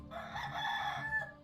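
A rooster crows in the farming video game Medieval Dynasty, one clear cock-a-doodle-doo lasting just over a second, fairly close with a faint farmyard background.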